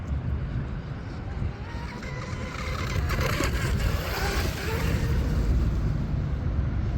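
A small M500 Mini Mono RC boat on a 3S or 4S battery races across choppy water, its motor whine and splashing mixed with gusting wind noise and growing louder and steadier midway.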